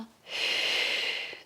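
A single long exhale from someone holding a side plank, a steady breathy rush lasting about a second, close and fairly loud, with no talking.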